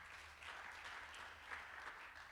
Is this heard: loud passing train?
no